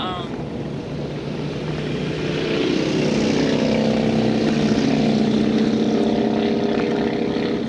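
Helicopters flying produce a steady droning engine roar with a humming tone, growing louder after a few seconds and holding strong to the end.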